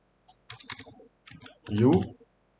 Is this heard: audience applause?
no